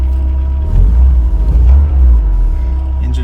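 A Porsche 944 engine idles with a steady low rumble, faint voices murmuring over its continuous drone.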